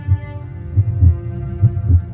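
A steady heartbeat sound effect thumps in low, paired double beats at an even pace, alone against a faint background hum.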